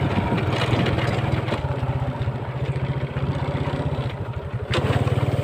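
A motorcycle engine idles nearby with a steady low, throbbing putter and a slight mechanical clatter, holding an even rhythm throughout with no talking.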